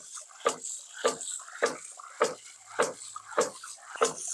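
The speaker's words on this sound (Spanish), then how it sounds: "La vamos a abrir porque vamos a entregar agua." A hydraulic ram pump delivers water once its discharge valve is opened, producing sharp rhythmic surges of splashing water about every half second, close and fairly loud, with no talk over it.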